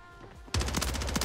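Automatic gunfire in the Warzone battle royale game, a near, loud rapid burst of shots that breaks in abruptly after a quiet start and rattles on steadily to the end.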